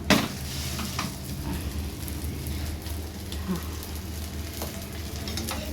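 Food sizzles and crackles steadily in a hot pan, a close, continuous frying hiss with a brief spoken word at the start.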